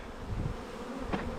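Bees hum inside a crowded beehive while its comb is being cleaned out, a soft steady buzzing drone, faint and close, with one brief louder passing whine near the end.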